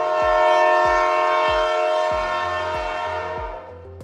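Lagos Blue Line passenger train riding from Marina: a loud, sustained train horn sounds over the rhythmic clickety-clack of wheels on rail joints, close and steady throughout.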